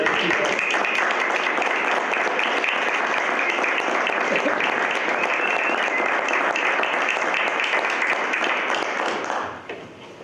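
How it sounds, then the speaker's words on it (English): Sustained applause from the audience at a Florida school board meeting, loud and dense, with steady clapping for nearly ten seconds before fading slightly at the end. "how about a round of applause for the board?"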